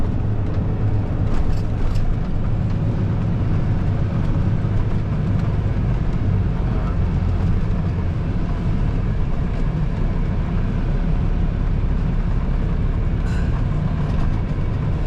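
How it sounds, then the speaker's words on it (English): A 900-horsepower silage cutter drones steadily during a silage harvest, a loud continuous low engine rumble with heavy mechanical texture that holds unbroken throughout. "this silage cutter's 900 horsepower"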